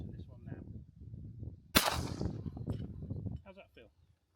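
A single sharp rifle shot rings out at a clay target outdoors, loud and close, in the middle of casual talk from nearby people before and after it.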